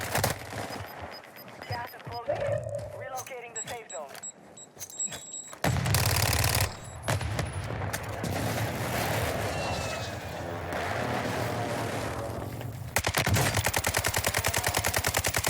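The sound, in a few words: gunfire in the video game Warzone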